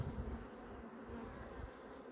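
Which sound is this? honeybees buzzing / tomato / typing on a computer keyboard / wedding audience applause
honeybees buzzing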